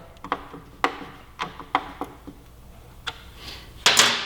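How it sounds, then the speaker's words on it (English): Bodywork fasteners tightened on a 2017 Yamaha YZF-R6 fitted with Hotbodies race bodywork: a series of sharp ratcheting clicks and ticks at irregular intervals, ending in a brief louder rattle, close up and with no talking. "Go ahead and run our fasteners down."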